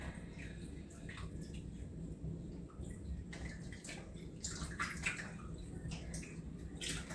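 Food being washed in vinegar and water, close splashing and sloshing with tap-like running water and scattered drips, fairly faint and continuous throughout.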